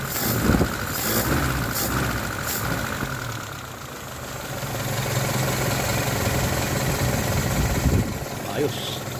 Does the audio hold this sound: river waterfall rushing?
no